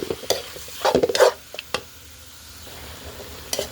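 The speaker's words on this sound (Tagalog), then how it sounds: "Haluin natin ulit para pantay po yung pagkaluto ng ating karne." Sautéed pork for menudo being stirred in a pan, with a few scattered scrapes and clinks of a utensil over a faint sizzle, some sharp and close, then a quieter stretch.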